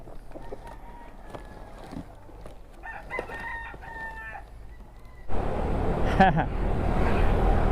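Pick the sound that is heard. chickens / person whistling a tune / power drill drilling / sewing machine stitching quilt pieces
chickens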